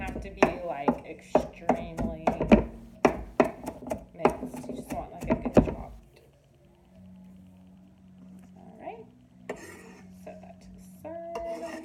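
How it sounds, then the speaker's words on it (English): A knife chops food for Mexican street tacos on a board, about six seconds of quick close rhythmic thuds, then quieter kitchen handling with faint utensil clinks. "we're just gonna go ahead and finally chop that a little bit more"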